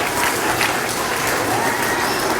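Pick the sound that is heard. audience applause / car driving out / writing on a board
audience applause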